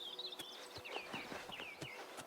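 Horses in the Oblivion Remastered video game running off across open country, their hooves clip-clopping in a steady scattered rhythm at moderate distance, with high bird-like chirps above.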